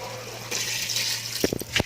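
Water poured into a pot while cooking Filipino chicken soup, a rushing pour that swells and ends in a few sloshing splashes.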